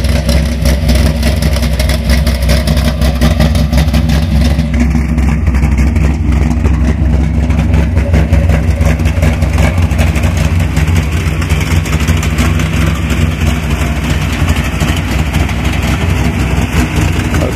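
A 1978 Z28 Camaro hot rod sleeper with a 4-speed runs loud and close, its engine rumbling continuously with deep, steady idle and mild revving throughout.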